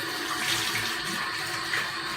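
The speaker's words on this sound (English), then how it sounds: "So I start with just a little warm water on my face like this," Warm water running from a bathroom sink tap while splashed onto a face, a steady close rush and patter with no talking.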